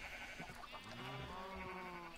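Sheep bleating in the Minecraft video game, several wavering game bleats overlapping one another at moderate loudness over a steady background with no talking.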